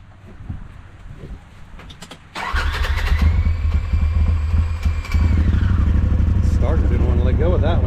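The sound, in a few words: Polaris RZR engine starter cranking and starting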